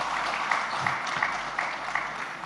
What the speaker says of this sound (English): So that's Lanka, and I think now she deserves an applause, and Bandhan too.